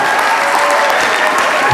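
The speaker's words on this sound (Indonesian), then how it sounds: "Tepuk tangan ini" An audience at a leadership forum applauds in a steady, loud, even wash of clapping that holds at one level throughout.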